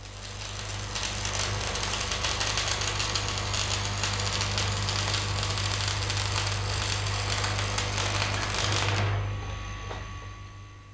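Electrode arc welding along a weld line gives a steady, loud, crackling sizzle over a low hum for several seconds before it cuts off abruptly, leaving quiet hum.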